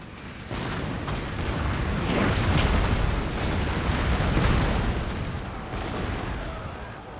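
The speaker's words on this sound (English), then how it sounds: "I can hear the guns firing off in the distance somewhere" Distant cannon and rifle fire in the samurai-era strategy game Shogun 2: Fall of the Samurai, a rolling, rumbling barrage of booms that swells and fades over a continuous low roar.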